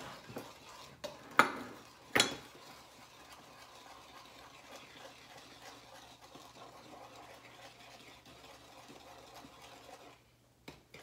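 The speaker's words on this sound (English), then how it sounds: "Now he's going to stir in his flour." Flour is stirred by hand into oatmeal raisin cookie dough, making a soft, faint scraping and thudding in the bowl, with a few sharper knocks near the start.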